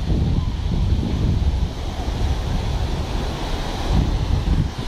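Steady surf washes onto a beach in Vietnam, a continuous broadband roar of breaking waves with wind buffeting the microphone and no clear talk.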